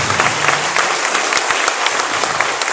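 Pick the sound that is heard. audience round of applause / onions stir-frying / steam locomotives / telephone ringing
audience round of applause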